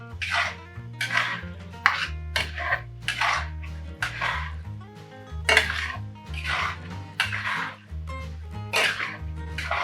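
Mutton masala being stirred in a pan over high flame: repeated loud metallic scrapes and clanks of a spoon against the pan in an uneven rhythm, with a steady low background hum throughout.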